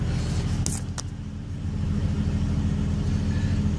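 The engine of a 1971 postal jeep runs steadily at idle with a low, even rumble, a couple of brief clicks or clunks near the start.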